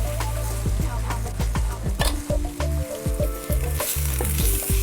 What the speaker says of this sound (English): we render the curry powder together with the onion, shallot and ginger